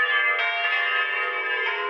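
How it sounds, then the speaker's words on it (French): Church bells ring in a steady, sustained wash of overlapping tones, loud and close, with no voices over them. "Les cloches de l'église."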